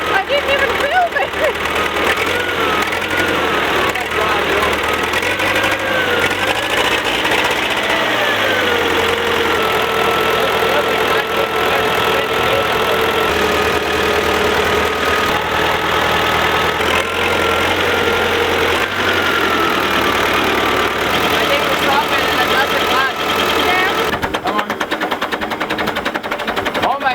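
A farm vehicle's engine runs after starting, a loud, close, rough diesel-like chug that stays steady with slight changes in pitch for the whole stretch, and people talk over it.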